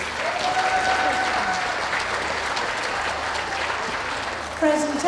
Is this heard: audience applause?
yes